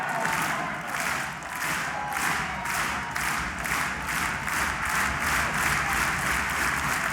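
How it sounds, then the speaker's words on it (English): Arena crowd at a TNA wrestling show in the UK cheering and applauding steadily during a match, a loud, dense wash of clapping and shouts with rhythmic surges in intensity throughout. "Crowd shows their support as Storm comes off the top again"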